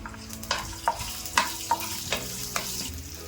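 Cumin seeds, green chilies and garlic fry in hot oil in a pan, a close crackling sizzle with a series of sharp spatula taps and stirring scrapes at a loose rhythm.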